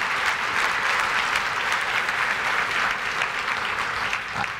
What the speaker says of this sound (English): I think you guys should give yourself a round of applause for that as well.